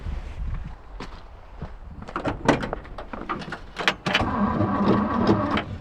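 An engine on a GMC truck left sitting for 30 years is cranked in an attempt to start it, with clunks and clatter before a louder sustained running or cranking noise takes over near the end, close and fairly loud.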